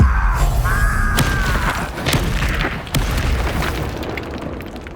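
Booming blasts from a fire spell in the Hogwarts Legacy video game, set among game music and combat noise, with a few sharp impacts spread through a dense, rumbling background.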